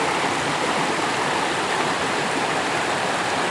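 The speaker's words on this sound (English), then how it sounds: "And the beautiful noise of water falling." Water pours at Pringle Falls in a continuous, loud, broadband rush that holds steady and close, with no voices or other sounds.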